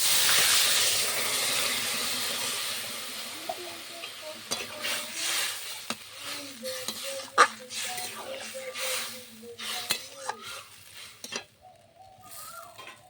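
Water poured into a Bengali vegetarian dish cooking in a pan with mustard, setting off a loud sizzle and hiss that settles into steady stirring and scraping, with occasional clinks of a utensil against the pot.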